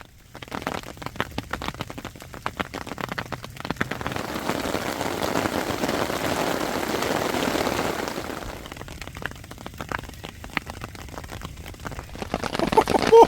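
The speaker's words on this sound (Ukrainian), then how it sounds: "Бачите, який дощ нас накрило конкретно нас сірком сьогодні" Heavy rain pours down outdoors during a fishing trip, a broad continuous rushing hiss with sharp drop impacts and patters, swelling in the middle and staying loud to the end.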